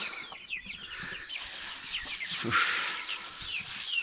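Several chickens cluck and chirp repeatedly at close range in a farmyard, with busy overlapping calls and a steady background hiss, and no talking.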